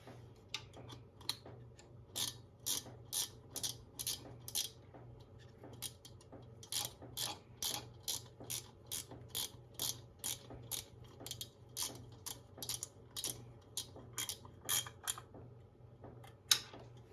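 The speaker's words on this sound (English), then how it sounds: "I've got all the bolts snugged down" Ratchet wrench tightening the bolts on a Harley Davidson rear rocker box cover, rapid bursts of crisp clicking repeated in steady strokes, close and clear over a low hum, with brief pauses between runs.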